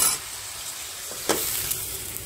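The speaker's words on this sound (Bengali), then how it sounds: "আমরা মাছ রান্না করতেছি ঝিঙ্গে আর আলু দিয়া" Fish fries in a pan alongside ridge gourd and potato, giving a loud, steady, close hiss of sizzling oil with a brief utensil clink partway through.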